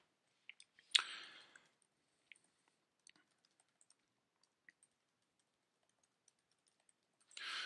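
Sparse, quiet keystrokes on a computer keyboard while a password is entered for an Active Directory account, with a brief louder burst of clicks early on, scattered single taps, and another cluster at the end.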